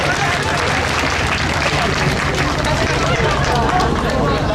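Cruise passengers aboard the MS Astoria applauding candidates, a dense continuous wash of many hands clapping at once, loud and steady, with crowd murmur beneath.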